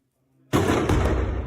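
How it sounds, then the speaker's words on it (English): An explosion in Bakhmut during wartime shelling of the city: after near silence, a loud blast hits suddenly and rolls on as a sustained, heavy rumble. "And we hear another explosion emanating from that part of the block."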